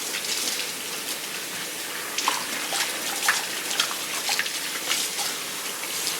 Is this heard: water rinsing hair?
yes